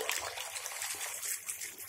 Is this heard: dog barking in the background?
no